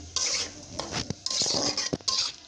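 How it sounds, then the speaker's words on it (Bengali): Hilsa fish heads being stirred in a pan with green chilli paste and garlic paste: a spoon scrapes and clinks against the metal in close, irregular strokes, with short pauses between bursts. "তো নেড়ে চেড়ে দিচ্ছি"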